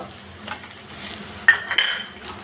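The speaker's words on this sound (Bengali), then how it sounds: "পেঁয়াজের সাথে একটু ভেজে নিব" Salted hilsa fish frying with chopped onion and green chilies in a pan, a soft steady sizzle broken by several clinks and scrapes of a utensil stirring, close and moderately quiet, with no talking.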